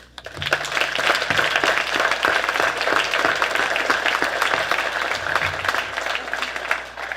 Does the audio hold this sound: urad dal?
no